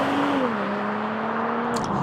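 A BMW M340i pulls hard under throttle out of a corner, its engine note a steady, smooth drone that climbs and dips slightly in pitch, heard close and continuous throughout.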